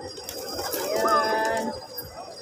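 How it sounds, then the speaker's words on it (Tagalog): Pigeons cooing and calling at Batu Caves, soft low coos rising and falling at middle distance over outdoor ambience, with faint voices nearby. "Guys, ayan, ang daming bird dito"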